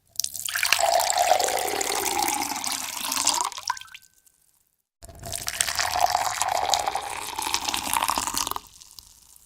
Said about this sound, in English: There is water being poured into a glass.